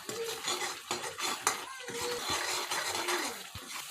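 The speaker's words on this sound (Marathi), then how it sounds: "आता यात थोडीशी कोथिंबीर टाका आणि तीही व्यवस्थित मिक्स करून घ्या" Egg curry masala with coriander stirred in a pan, a spoon scraping and clinking against metal in quick irregular strokes over a light sizzle, close and moderately quiet.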